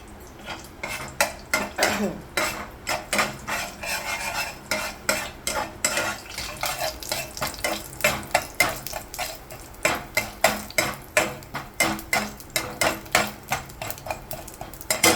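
Tempering spices frying in oil in a pan while a utensil clatters and scrapes against the metal in quick repeated strokes, a busy rhythmic clinking over a low sizzle.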